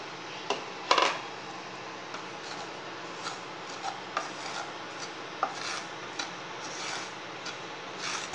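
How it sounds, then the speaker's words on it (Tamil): Semolina (rava) dry-roasting in a pan on a stove, giving a soft, steady scraping rub with scattered light ticks and one sharper knock near the start, fairly faint and with no talk. "ரவாவை வந்து வறுத்து எடுத்துக்கிடுவோம்."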